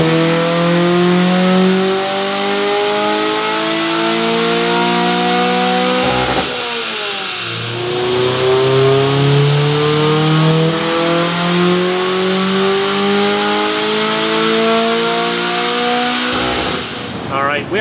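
An EP3 car with a K24a2 engine swap revs hard on a dyno, a loud sustained engine roar climbing in pitch through the gears, dropping briefly and climbing again, with no talking.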